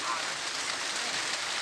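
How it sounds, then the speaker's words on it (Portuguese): Heavy rain falls steadily on a farm, a dense, even hiss of drops on surfaces that stays loud and unbroken throughout. "Chovendo pegado, ó."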